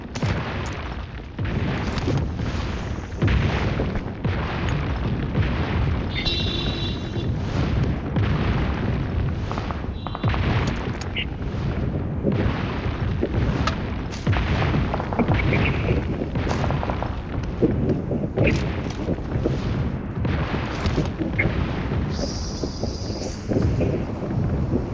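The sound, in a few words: gunfire in PUBG Mobile video game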